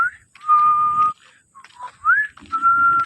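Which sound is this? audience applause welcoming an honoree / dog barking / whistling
whistling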